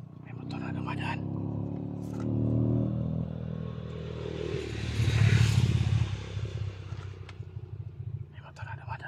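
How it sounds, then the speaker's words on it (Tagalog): A motorcycle passes by, its engine swelling from a distance to a loud, close roar and fading away, with a person talking over it. "May motor na dumadaan."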